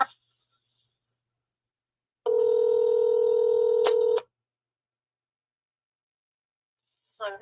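Telephone keypad DTMF tones dialing an extension on a police department phone line, a steady two-tone beep lasting about two seconds with a short extra blip near its end, then silence and a brief voice-like sound at the close.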